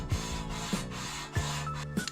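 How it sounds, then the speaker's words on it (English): Emery cloth rubbing back and forth over a metal surface on a Toyota Corolla AE101 race car before welding, a steady gritty scrubbing with a few strokes under a low mechanical hum. "Just take some emery cloth and shine up this bottom and we should be good."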